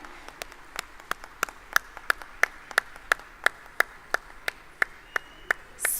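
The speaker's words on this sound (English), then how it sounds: "That's right, please keep that applause going." Scattered applause from an audience at a 15th anniversary celebration of a skills development centre, with sharp individual claps repeating in a loose, sparse rhythm throughout rather than a dense roar.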